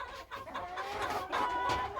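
A small black rooster among Chinese Silkie chickens crows nearby, its call rising over the soft clucking and general farmyard fowl noise that run through the whole stretch.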